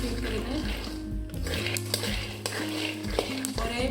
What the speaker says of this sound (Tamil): ஒரே மாதிரிலாம் வறுபடுத்தி பாருங்கள்.